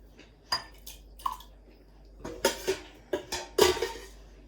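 Metal soup ladle scooping tomato pasta sauce into glass canning jars, giving a series of clinks and scrapes spaced irregularly, close and moderately loud with no talking.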